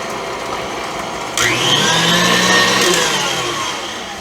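An electric beater whipping pineapple upside down cake batter, a loud steady whirring motor that starts abruptly and runs on, close and alone.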